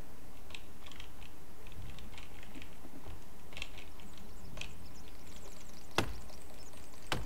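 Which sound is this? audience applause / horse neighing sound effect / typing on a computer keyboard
typing on a computer keyboard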